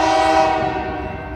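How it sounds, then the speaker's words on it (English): A Union Pacific double-stack freight train passes on CSX tracks, its loud sustained horn chord blaring up close over the low rumble of the rolling train. "it's like a double stacker train"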